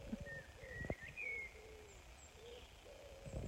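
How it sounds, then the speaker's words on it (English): Birdsong in hotel grounds outdoors, with soft cooing and several thin whistled calls drifting at moderate distance over a faint hum of background noise. "Kevin's just put "Loving the Bird Song.""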